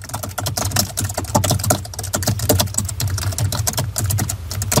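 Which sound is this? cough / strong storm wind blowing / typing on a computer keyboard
typing on a computer keyboard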